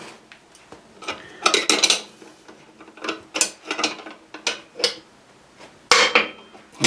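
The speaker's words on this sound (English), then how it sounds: "There it is, little crack as it lets go. That's the bearing just juddering out of its seat." A motorcycle wheel bearing is forced from its hub seat by a ring-spanner puller, giving a sharp crack and then a series of irregular metallic knocks and juddering clicks, close and fairly loud.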